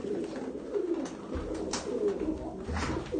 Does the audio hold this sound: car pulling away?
no